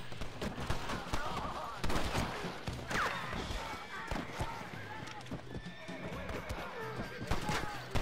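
In Red Dead Redemption, a horse whinnies amid galloping hoofbeats and scattered gunfire, the neigh a short rising-falling cry near the middle, with speech-like voices mixed into the busy scene.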